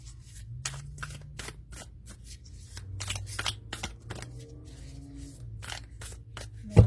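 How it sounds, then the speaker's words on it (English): Playing cards from a mass-market deck being shuffled, producing repeated short riffling bursts and soft card slaps through the clip, fairly close and moderately quiet, with no talking. "There's no way to get an accurate shuffle like that."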